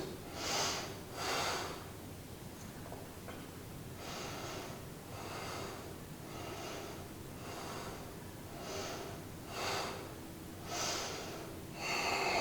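Slow, deep yoga breaths during a seated twist, each long inhale and exhale drawn audibly through the nose, repeating in a steady rhythm with quiet pauses between them.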